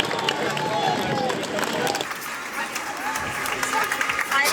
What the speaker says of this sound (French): On est la caravane la plus applaudie.